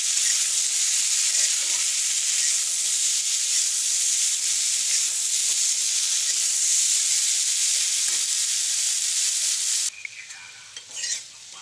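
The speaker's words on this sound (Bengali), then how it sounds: "অল্প হলুদ দিয়ে দেবো। হালকা ভেজে নেবো, বেশি ভাজবো না।" Potatoes fry lightly with turmeric in hot oil, giving a loud, dense, unbroken sizzle close by that runs for about ten seconds before cutting off abruptly into a few quiet clatters.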